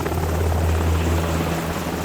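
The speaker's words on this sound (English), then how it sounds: "They make the pilot fly the helicopter to the place where Langston is going to meet AM" Helicopter in flight, a loud steady rotor drone with a low pulsing throb, close and constant throughout with no other sounds.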